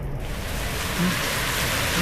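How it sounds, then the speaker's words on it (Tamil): Steady evening rain falls at Porur Wetland Eco Park in Chennai, a dense broadband hiss of drops on surfaces that stays continuous and fairly loud for the whole stretch, with no voices. "அதே டைமில் வந்து மழையும் பெய்ய ஆரம்பிச்சது."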